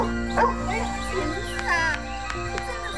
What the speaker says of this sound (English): This German shepherd suddenly awoke and barked at his owner continuously.